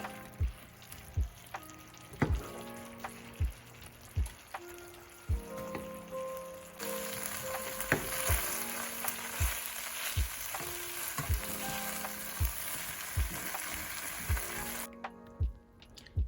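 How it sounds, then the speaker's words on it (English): Tofu being stirred into a spicy Korean braising sauce (dubu-jorim) in a pan, with a steady sizzling bubble and repeated scraping, clacking strokes of a utensil against the pan, close and alone with no talk. "So now we're going to dump our tofu into the sauce. And mix it, mix it"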